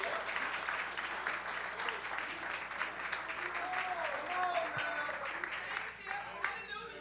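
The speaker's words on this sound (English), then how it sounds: "give the Lord a hand clap of praise this morning" A church congregation at Sunday morning worship claps hands in sustained applause, a dense patter that thins near the end as voices and cheers mix in faintly.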